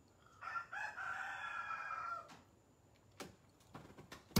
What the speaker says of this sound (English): And now we have a rooster out here at the door.